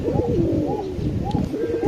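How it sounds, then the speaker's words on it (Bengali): Indian Kaldam racing pigeons coo steadily, the soft low burbling calls overlapping in a continuous murmur from nearby birds, with no talking. "দুইটা কবুতর হইতেছে অরিজিনাল কালদম কবুতর, ইন্ডিয়ান কালদম"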